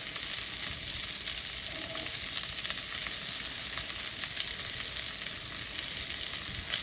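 Large shrimp fry in a skillet with a loud, dense, unbroken sizzle and fine crackling spatter, close up and steady throughout with no talking.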